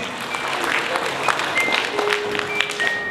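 Wedding guests applaud throughout a ceremony, a steady patter of clapping from a crowd at moderate distance, with faint voices mixed underneath.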